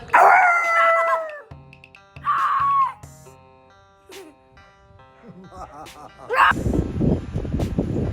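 A dog howls outdoors at night, long wavering howls that rise and fall, with a few short barks and gaps between them, and a burst of rustling noise near the end.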